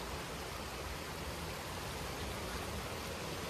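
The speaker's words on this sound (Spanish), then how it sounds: "Viendo correr el río" A river rushes steadily at Las Brisas waterfall in Cuetzalan, a constant even hiss of flowing water, faint and unbroken, with no voices.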